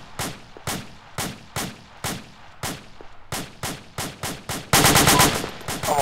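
Rapid gunfire in the Arma military shooter: a steady run of sharp, evenly spaced single shots, then a dense, loud automatic burst near the end, with no talk over it.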